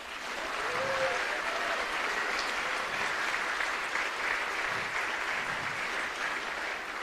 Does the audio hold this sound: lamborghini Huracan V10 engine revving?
no